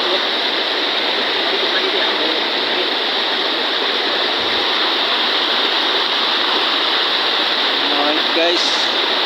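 Water gushing and splashing steadily from a pipe under repair in a barangay, a loud, continuous rushing spray that holds throughout, with a little faint talk near the end.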